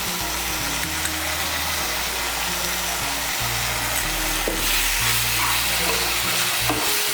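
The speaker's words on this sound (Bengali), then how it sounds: "মিশিয়ে নিয়ে মশলাটাকে একটু কষিয়ে নেব" Spices and lightly salted boiled dal for a Bengali egg dal are stirred and sautéed in a pan, producing a close, constant sizzle with scraping stirs layered over a low steady hum.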